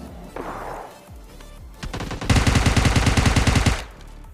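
Gunfire in a battle royale shooter: a few scattered shots early, then a loud rapid automatic burst of evenly spaced rounds lasting over a second before cutting off.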